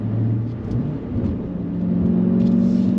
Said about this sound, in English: There's just something about the sound of a V8.